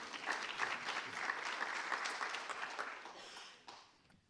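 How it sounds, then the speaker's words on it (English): A room full of people applauds a professor being welcomed at a youth network launch event, steady dense clapping that holds for several seconds and then tapers off. "Please give him a round of applause."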